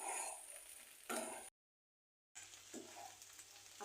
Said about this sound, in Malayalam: ഇതിലേക്ക് ലേശം ഡാർക്ക് സോസ് ഒഴിച്ച് കൊടുക്കുക. നമുക്കിതൊന്ന് നന്നായി മിക്സ് ചെയ്ത് കൊടുക്കാം.